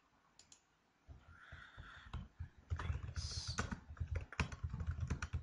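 Typing on a computer keyboard, with a few light clicks at first that grow into a steady run of close key taps. Faint background noise sits under the keys, and there is no clear speech.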